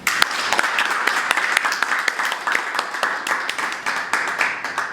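Sustained crowd applause acclaiming the president at a merit trophy and diploma ceremony, dense steady clapping throughout with a few sharper individual claps and faint voices mixed in.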